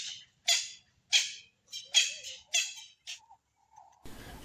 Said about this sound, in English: And a crested barbet with its crazy coloration.